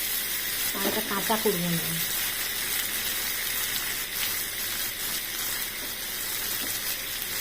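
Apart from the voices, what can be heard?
shrimp frying in a pan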